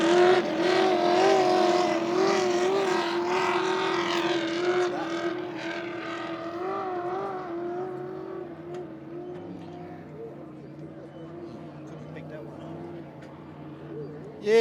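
A loud racing powerboat engine drones past during E.C. Griffith Cup 2024 practice with a steady high whine, fading gradually as it moves away, with voices talking over it.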